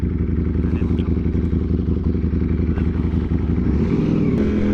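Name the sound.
motorcycle riding, Aprilia Tuono V4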